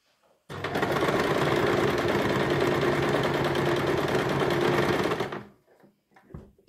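A sewing machine stitching a kimeshek headdress runs in one loud, continuous burst of rapid needle clatter for several seconds, then stops, leaving faint handling sounds.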